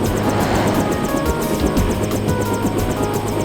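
A helicopter in the Deus Ex video game, set on the streets of Paris, gives off a steady, loud rotor and engine drone with rhythmic blade chopping that holds throughout, with no other sound rising above it.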